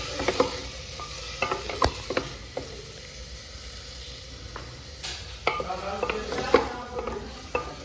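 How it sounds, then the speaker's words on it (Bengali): Vegetables for dal frying lightly in a pan, with a low steady sizzle broken by intermittent scraping and clinking as a spoon stirs them against the pan, all close and without talk. "তো এটা হালকা করে ভেজে নেব, কারণ সবজির একটা গন্ধ থাকে"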